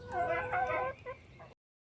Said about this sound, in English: chickens are out in the yard